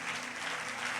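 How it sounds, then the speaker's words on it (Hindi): A church congregation at a Sunday service claps together, a continuous even roar of hands that stays faint and steady for a brief moment, with no talk on top. "एक बार मैं चाहता हूं जोरदार यीशु मसीह के लिए तालियां बजाते हैं"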